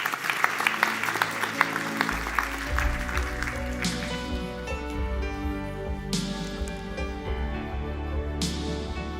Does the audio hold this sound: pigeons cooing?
no